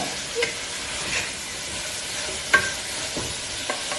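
Curry leaves and onions fry in a pan with a steady, close sizzle and hiss, broken by a few light clicks of stirring.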